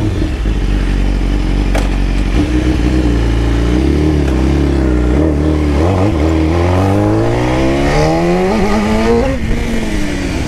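BMW S 1000 RR superbike fitted with an Atalla stainless steel exhaust header, engine revving loud and close, climbing through rising rev sweeps and gear pulls with a harsh, raspy exhaust note throughout.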